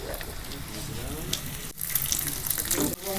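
Carrots are dropped into onions already frying in a pan for street-style chicken chowmein, a loud sizzling hiss that flares up after a brief clatter, close and continuous.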